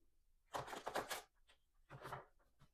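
Thick, heavy cardstock tarot cards are shuffled close up in two bursts of rapid riffling and slapping, the first longer, with a few soft taps between.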